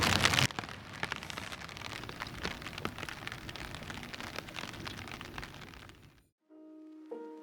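Steady spring rain falls in the Japanese Alps, a constant hiss dotted with sharp individual drop hits, then stops abruptly near the end before a brief tonal sound.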